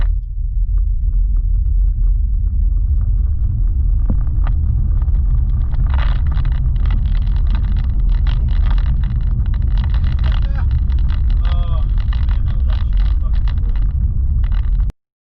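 A Tesla Model Y accelerates hard, producing a loud, sustained low rumble of road and wind noise that swells steadily for about fifteen seconds before cutting off abruptly.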